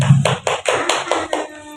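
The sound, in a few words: class applauding a student named Novia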